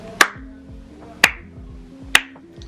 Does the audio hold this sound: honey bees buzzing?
no